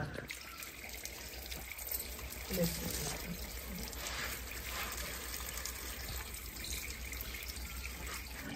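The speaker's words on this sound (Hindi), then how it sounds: "तो पानी भी खोल दिया, ये देख सकते हैं आप" Water runs from a household tap to wash fruit, a steady splashing trickle into a sink that continues throughout, with faint background voices and clatter at low level.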